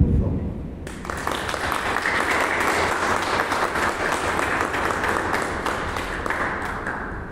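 At a book launch during a book fair, the audience bursts into applause for recently departed artists, with the clapping starting suddenly after a short quiet moment and then holding strong and steady until the end.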